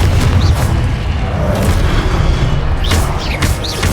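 Heavy booming blasts from the Confringo explosive spell in Hogwarts Legacy, loud and dense, repeating over a sustained rumble of combat effects with no talk.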